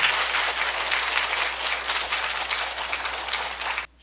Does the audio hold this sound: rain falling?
no